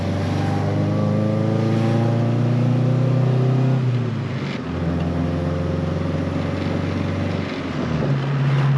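A Honda Civic engine hums steadily while driving, its tone climbing under acceleration and dropping as the driver shifts through the gears, loud and continuous from inside the car.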